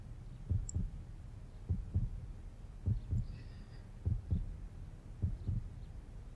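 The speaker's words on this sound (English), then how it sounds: "she could feel a heartbeat, steady and strong." Heartbeat sound effect from the video game 428: Shibuya Scramble, with a steady, deep double-thump lub-dub repeating about five times at an even pace, low and throbbing, with no voices.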